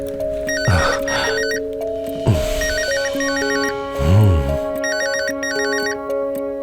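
An electronic ringtone trills repeatedly over sustained musical tones and a few whooshing swells, loud and close.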